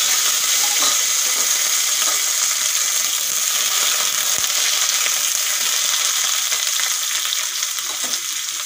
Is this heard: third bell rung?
no